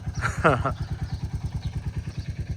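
Loaded motorcycle idling nearby, its engine thumping in a steady, even rhythm all the way through, with someone talking over it early on.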